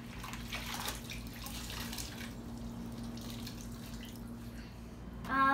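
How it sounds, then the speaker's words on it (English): Water splashes and trickles steadily as hand-washed laundry is wrung out over a basin or sink, a continuous close wet rush with a louder burst near the end. "And then wring it properly to remove the excess water."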